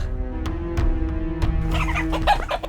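Chickens cluck close by in short, choppy bursts, with a scratchy, busy patch of noise near the end, in Palawan where monitor lizards prey on them.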